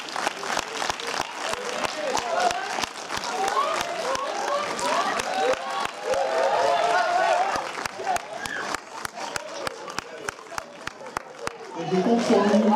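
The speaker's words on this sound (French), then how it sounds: "On peut les applaudir, s'il vous plaît." A cinema audience applauds steadily after a film premiere, a long sustained wash of many hands clapping with some crowd chatter beneath, continuing for over twelve seconds before voices rise at the end.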